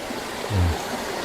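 Mountain stream flowing past small waterfalls among wildflowers on the Panorama Ridge trail near Vancouver, a steady close rush of water with one brief low thump partway through.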